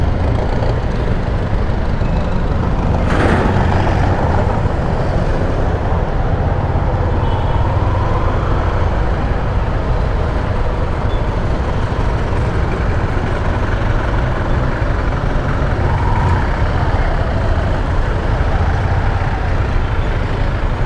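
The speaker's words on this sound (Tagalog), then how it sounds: "Traffic talaga dito." Road traffic noise with trucks and buses on a congested road, heard as a constant loud rumbling drone of engines with a brief sharp hiss like an air brake near the start.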